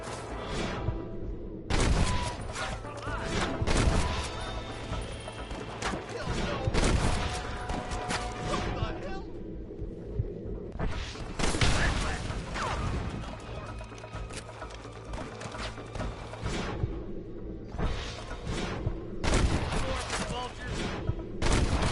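Repeated bursts of gunfire in the Western video game Red Dead Redemption, loud volleys and scattered shots firing in waves across the scene, with shouted voices mixed in between the blasts.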